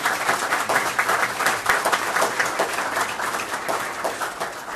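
A crowd at a community meeting applauds emergency responders, a dense burst of steady clapping from many hands that carries on for several seconds and slowly tapers off.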